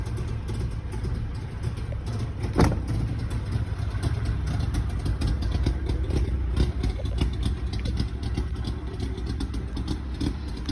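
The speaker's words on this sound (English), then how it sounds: "This is a 2-stroke engine, by the way." A 1961 DKW two-stroke engine idles steadily after a cold start, a continuous low rumble with a faint clattery edge and one brief sharp knock near the start, with no talking.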